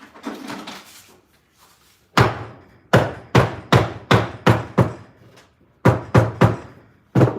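Hammer blows closing a paint can lid, a few soft taps followed by a series of loud, sharp, closely spaced metallic knocks in irregular bursts, near and alone.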